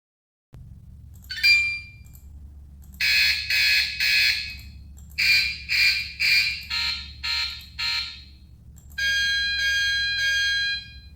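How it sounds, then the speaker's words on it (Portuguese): An LED smart timer panel plays through its alert sound options: a few electronic bell-like beeps in short bursts, then a run of pulsed tones and a final sustained ringing tone, close and clear over a low hum. "Aqui você consegue escolher um dos sons."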